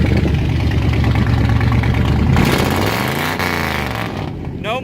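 A Chevy truck engine idles with a steady low, throbbing rumble close by, its tone shifting slightly partway through.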